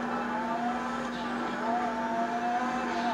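Car driving in GTA V Online with tires squealing, a steady engine drone and thin screeching tones sliding across the mix, with faint voices underneath.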